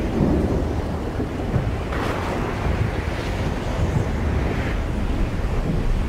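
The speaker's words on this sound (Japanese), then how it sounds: "雷が鳴ってきましたね。" Thunderstorm in the video game Another World: a continuous roar of rain and wind with low rumbling thunder, one louder crack swelling near the middle, with no voices.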